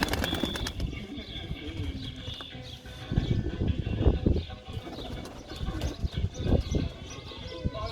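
Pigeons coo softly in a loft of show birds while someone talks nearby, with low throaty calls and some fluttering and shuffling mixed under his voice.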